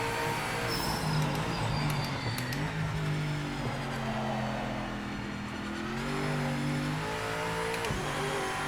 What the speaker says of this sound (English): I love the way the car drives out the corners. I love the way it accelerates.